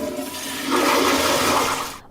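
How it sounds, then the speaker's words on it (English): A toilet flushes in one steady rushing surge of water that swells after a moment, holds loud and close, then cuts off abruptly, with no voices. "Many people think after a flush, it's all gone."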